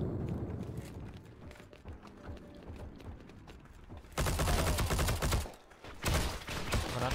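Gunfire in the online shooter Heroes & Generals, rapid bursts and dense fusillades that swell sharply in the second half, loud and sustained with brief pauses.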